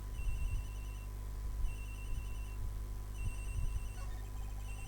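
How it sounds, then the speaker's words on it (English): A phone rings in the Ace Attorney Investigations video game, repeating electronic trill bursts at regular intervals over low background music and rumble, with no speech. "The ringing is coming from somewhere around here."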